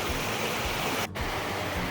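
Creek water rushes steadily over a stream bed on a gold claim in the Galice district, a loud continuous outdoor flow with a brief dip near the middle and no talking.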